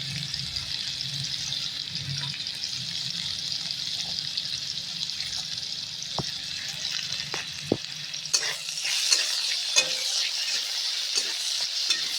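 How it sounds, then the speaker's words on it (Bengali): Cauliflower pieces fry in hot oil for a mixed-vegetable dish, giving a steady, close sizzle that continues throughout, with a few sharp utensil clinks and stirring sounds toward the end. "ফুলকপি ফুলকপিগুলো ভেজে নিচ্ছি"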